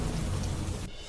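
Steady rain pours down over rural countryside, a dense close hiss that fills the short stretch evenly and thins slightly at the end.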